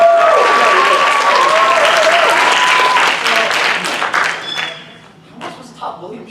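An audience applauds after a play, the clapping dense and sustained for about three seconds before it thins into scattered claps as a voice speaks over it.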